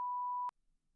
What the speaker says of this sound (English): So anytime that AI bot hears me swear, it puts a little beep sound.